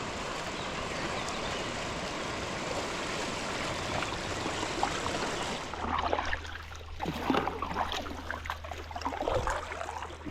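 Kayak paddling during an adventure race in Croatia: continuous rushing water, then a low motor drone and repeated splashy paddle strokes in a loose rhythm, fairly close, with no talk.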